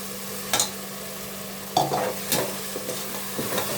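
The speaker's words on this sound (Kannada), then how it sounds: "ಪುದೀನ, ಹಸಿಮೆಣಸಿನ್ಕಾಯಿ ಮತ್ತು ಕೊತ್ತಂಬರಿ ಸೊಪ್ಪು ಅದು ಸ್ವಲ್ಪ ಘಾಟ್ ಹೋಗೋ ತನಕ ಫ್ರೈ ಮಾಡೋಣ" A ground paste of mint, green chili and coriander sizzles and fries in a pan, with sharp scraping stirs breaking through at intervals, close and unvoiced.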